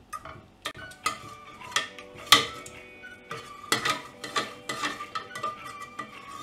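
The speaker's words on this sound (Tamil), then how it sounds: "இப்போது இந்த ஸ்மாஷர் வச்சு இந்த பருப்பை நல்லா கூழாக்கிடலாம்" A smasher mashes cooked dal in a pot, giving irregular clinks and knocks of metal against the vessel with soft squelchy pressing between them, close and alone.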